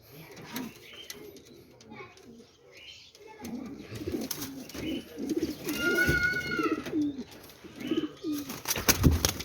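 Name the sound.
pigeons cooing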